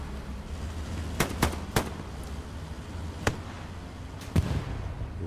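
Rocket explosions in the console war shooter Hell Let Loose, struck against a German Panzer IV tank: several sharp, separate blasts spaced irregularly over a low battlefield rumble, with the last one the loudest.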